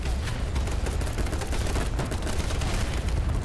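Rapid gunfire from the video game BattleBit Remastered crackles without a break, dense overlapping shots and bursts that sound fairly loud and close throughout, with no voice over them.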